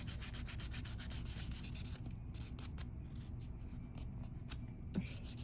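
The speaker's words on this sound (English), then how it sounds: "file it in and remove that ridge" A nail file rasping ridges off a toenail during a pedicure, quick repeated close scraping strokes at a steady rhythm, fairly quiet with no talk.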